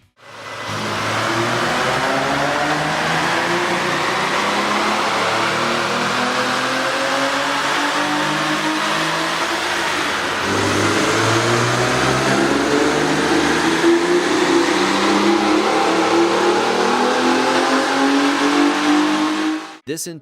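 A 3.8L Hyundai Genesis Coupe with an AEM cold air intake revs hard and accelerates, a loud, continuous engine roar climbing in pitch for most of the stretch before cutting off abruptly at the end.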